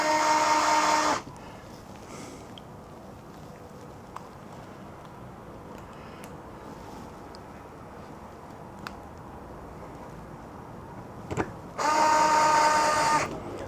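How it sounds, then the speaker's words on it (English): An electric screwdriver driving M3 by 10 button head screws into a Yokomo Rookie Speed RS 2.0 touring car kit, two short loud whirring bursts at the start and end with quiet handling clicks in between. "this is definitely a case where my electric screwdriver comes into its own"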